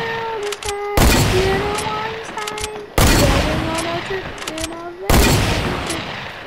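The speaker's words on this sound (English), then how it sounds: "I'm gonna snipe him." Three loud, sharp sniper rifle shots crack out in a video game firefight, evenly spaced about two seconds apart, each trailing into a long reverberant decay over faint in-game tones.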